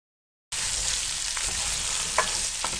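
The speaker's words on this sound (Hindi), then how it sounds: "दरमियानी आंच कर लें आप और तकरीबन 5 से 8 मिनट के लिए आप इसको अच्छी तरह से फ्राई कर लें" Potatoes frying in a pan over medium heat, a faint steady sizzling hiss that starts after a brief silence, with a couple of soft stirring knocks and no speech.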